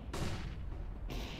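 A flashbang grenade goes off in the game CS:GO, a loud, broad burst that rings on for about a second before a second sharp crack cuts in near the end.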